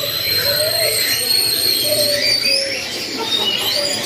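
Canaries chirp and warble continuously with high, thin trilling notes over a busy bird-market background, as if several caged birds sing nearby; a voice speaks faintly underneath.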